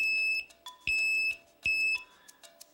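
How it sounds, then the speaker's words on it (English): Loud, shrill electronic beeps sound close up in a steady pattern, each long tone followed by a brief gap, then repeating. "and it beeps really loud"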